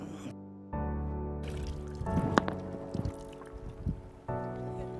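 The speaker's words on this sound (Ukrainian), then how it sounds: "зараз ми наберемо водички" Water scooped from a natural spring, with soft splashes, drips and wet gurgles at close range amid a steady droning hum that cuts in and out.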